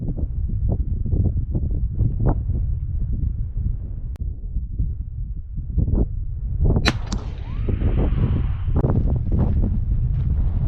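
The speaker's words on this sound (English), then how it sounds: "it's a windy day" Steady low rumble of wind buffeting the microphone throughout at an outdoor rifle range, with gusty bursts and a few sharp transient cracks partway through.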